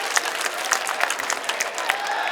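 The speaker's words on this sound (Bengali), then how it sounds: "আমরা করতালির মাধ্যমে তাকে স্বাগত জানাবো।" Applause from an audience at a political rally in Bangladesh welcoming Engineer Ishraque Hossain, a steady dense wash of clapping throughout without a break.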